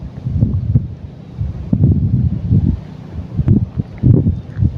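Wind gusts buffet the microphone outdoors at a mullet-fishing spot, a continuous low rumble rising and falling in irregular bursts with no voices.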